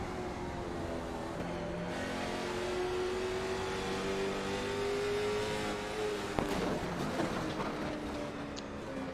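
A late model stock car engine at Thompson Speedway on throttle, a steady loud drone rising gradually in pitch as it accelerates, with a brief sharp noise near the end.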